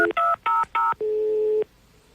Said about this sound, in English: Should I dial him up?